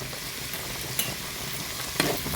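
Carrots and green beans being stirred and sautéed in a pan with salt, a steady low sizzle broken by two sharp scrapes of the spoon against the pan, with no one talking.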